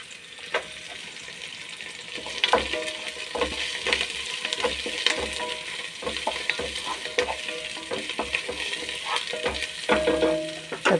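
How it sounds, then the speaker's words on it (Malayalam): Curry leaves and green chillies sizzle in hot frying oil for sambar, a steady crackling fry with scattered pops and stirring scrapes close by. "കുറച്ച് കറിവേപ്പില ഇട്ട് കൊടുക്കുന്നുണ്ട്. നമുക്ക് പച്ചമുളക് ഇട്ട് കൊടുക്കാം."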